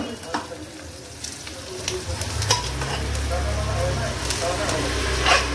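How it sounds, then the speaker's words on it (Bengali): Rice is stirred into frying pulao in a pan, producing scraping stirs and clatters over a rising, steady sizzle, with a low rumble building in the second half. "তারপরে আমি ভালো করে এগুলো মিশিয়ে নিচ্ছি পুরো রাইসটা"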